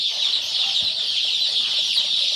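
Many caged chicks, about 50 per section, cheep continuously in a dense, high-pitched chorus, fairly close, with no voices.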